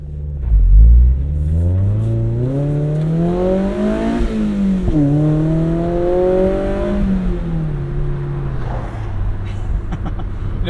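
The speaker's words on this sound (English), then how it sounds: "The open top experience mixed with a really nice exhaust is like one of the best things in the world." Exhaust note of a Mazda Miata convertible driving with the top down, rising and falling through revs in sustained, loud pulls and gear changes, with rushing wind underneath and no talking.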